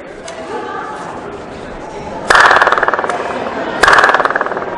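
Sharp hand claps ring out inside the stone dome of Golconda Fort in Hyderabad, two loud strikes each trailing into a dense ringing echo, with crowd murmur in the background.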